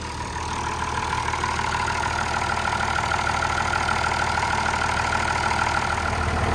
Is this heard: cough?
no